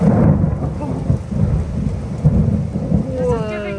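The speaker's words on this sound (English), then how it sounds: "This is giving some cool, vicious thunder." Thunder rumbles through a steady rainstorm, a deep rolling roar under constant rain hiss, fairly close and loud, with no talking.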